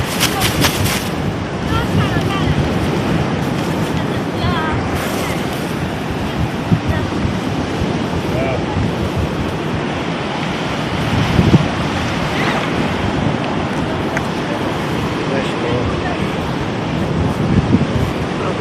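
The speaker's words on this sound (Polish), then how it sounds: "Tutaj ale wieje dzisiaj" Strong wind blows across the beach at Krynica Morska on the Vistula Spit, a loud, continuous roar with heavy buffeting on the microphone, sea surf washing underneath, and occasional gusts swelling over the steady rush.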